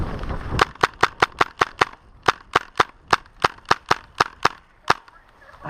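An airsoft gun fires during a night milsim game, about sixteen sharp, loud single shots in a fairly steady rhythm with short gaps, each a crisp crack over quiet background.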